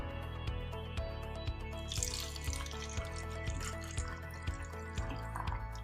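Electrolyzed reduced water poured to brew tea: a faint, steady trickle and light dripping runs through the whole stretch over a low background hum, with a slightly fuller splash about two seconds in.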